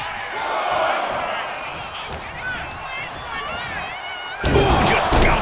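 Arena crowd from the WWE 2K25 wrestling video game cheers continuously through a match, a loud sustained roar with commentary voices talking over it and a sharper surge of noise near the end.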